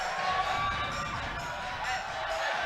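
A crowd at a bouldering competition cheers and whoops for a climber on a final attempt, a continuous loud mass of voices and shouts with no pauses.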